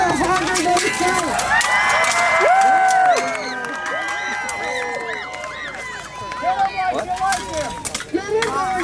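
A Renaissance faire crowd cheers and shouts through a closing fight show by a combat troupe, a dense roar of voices with whoops rising and falling, some nearby talk mixed in.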